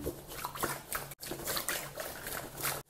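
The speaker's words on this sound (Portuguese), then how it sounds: "ficou fazendo um peito com barulho de mar" Water sloshing inside a homemade breast prosthesis made from a water-filled condom, a soft rolling, wave-like swish that swells and fades in repeated surges, close and fairly quiet.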